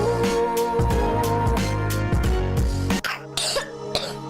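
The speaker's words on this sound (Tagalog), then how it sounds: "Ubo ng anak, nakababahala, baka plema." A child's phlegmy cough, heard as a short series of hacks over a steady tonal music bed, with a sharper cough near the end.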